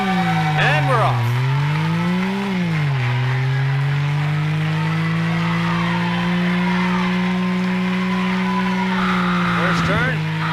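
An arcade racing video game car drives with a droning engine tone that rises and falls through shifts and turns, with skidding squeals and a crash, loud and continuous as people talk over it.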